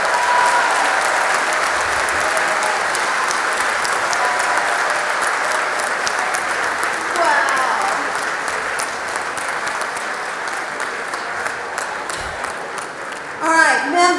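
Members of the Texas House break into loud, sustained applause in the chamber, a thick wash of clapping that tapers slightly toward the end.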